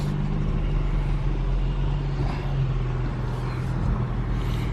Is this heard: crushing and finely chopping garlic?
no